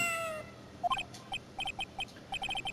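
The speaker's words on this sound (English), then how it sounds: "it sounded like a cat" A cat-like sound in a transmission from the Ace Attorney: Justice for All video game: a string of short, faint, evenly spaced high chirps or mews, repeating rhythmically after a brief electronic sweep, with no talk.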